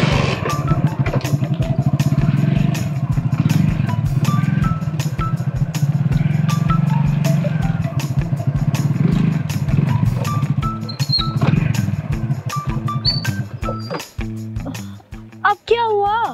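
A motorcycle rides along with a steady engine rumble while people talk over it, then the engine sputters and cuts out near the end, leaving only voices.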